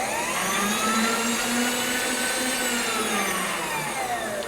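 A Bridgeport Series I 2 HP vertical knee-type milling machine running in rapid feed gives a loud, steady whine and motor roar that holds constant and close, with no talking.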